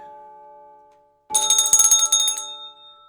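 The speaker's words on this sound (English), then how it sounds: "Suddenly, the doorbell is heard." A bright electronic chime rings out suddenly, several quick tones in a burst, after a brief silence.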